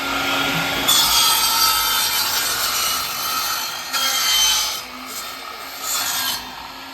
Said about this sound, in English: I was able to get the enclosure plywood cut